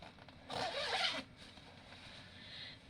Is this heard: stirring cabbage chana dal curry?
no